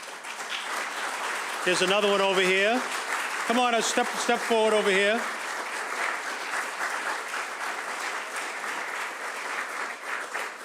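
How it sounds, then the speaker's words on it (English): Steady applause from an audience at a city council chambers rededication ceremony, continuous throughout, with a speaker talking over it through a microphone for several seconds. "We need to give you all a round of applause."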